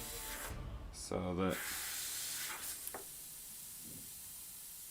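A fine airbrush hiss sprays red paint on Khorne Blood Crusher miniatures, a soft steady spray that starts and stops briefly while a voice talks quietly.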